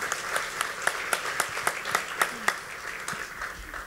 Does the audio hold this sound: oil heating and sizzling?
no